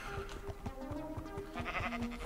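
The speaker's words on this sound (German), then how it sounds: "Das sind wieder nur Schafe." Sheep bleat in Minecraft, with several short, wavering bleats overlapping against a busy game background at a low level.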